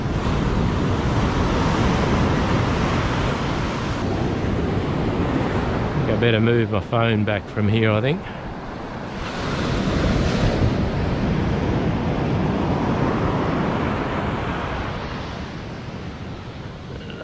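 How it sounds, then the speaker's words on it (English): Ocean waves break steadily against a rock ledge at the shore, a continuous loud wash with gusty wind on the microphone; someone talks briefly midway as the surf keeps rolling. "I don't think it'll be too long before the waves are coming over this little ledge."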